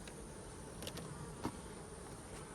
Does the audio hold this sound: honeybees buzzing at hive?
yes